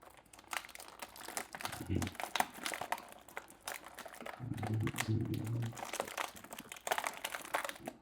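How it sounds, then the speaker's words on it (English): Action figure tie downs pulled from crinkly plastic packaging, a close, continuous crackle and rustle of plastic with a few firmer tugs, under a voice. "I'm going to go ahead and get all of these tie downs off"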